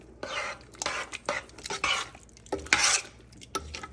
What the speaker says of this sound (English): And we'll stir that in.